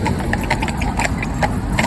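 Hooves of young Friesian horses trotting on a road, a quick steady clip-clop of sharp knocks close by, with a faint engine hum underneath.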